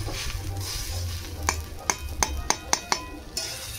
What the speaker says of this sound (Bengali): এখন চাল ভাজা হয়ে গেছে।